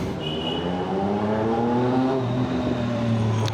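Sport motorcycles, a Ducati and a Hayabusa, pass on a road near Lonavala. Their engines drone continuously with rising and falling pitch, heard over the steady rumble of the rider's own moving BMW G310GS, and no one speaks.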